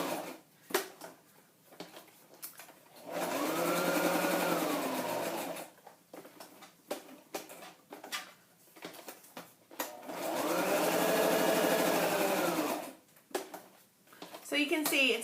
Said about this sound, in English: if you have your sewing machine handy, it's not like the longest amount of time to do an extra touch like machine stitching